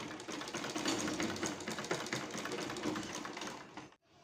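Sewing machine stitching the sleeve of a dhoti garment, a continuous rapid mechanical whirr running steadily and then stopping abruptly near the end.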